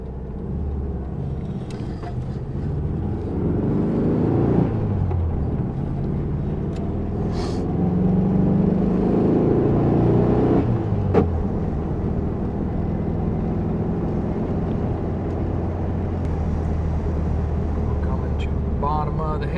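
A 1972 Volkswagen Super Beetle's engine runs while driving on a road, a steady loud low rumble that swells and eases with the throttle, with a person talking over it.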